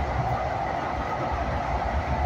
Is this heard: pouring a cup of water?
no